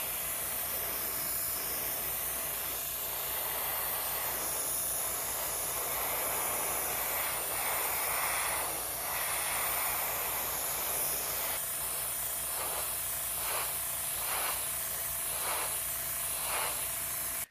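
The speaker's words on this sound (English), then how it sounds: "we're just spraying this direction so any overspray goes over these edges" Steady airbrush hiss runs throughout while spray painting a plastic Klingon Battle Cruiser model kit, with short repeated bursts of spray toward the end, close and continuous.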